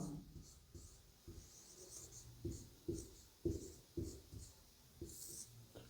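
Pen or chalk writing by hand during a maths lesson, a series of short scratchy strokes in uneven bursts, close and moderately quiet, with no talking over it.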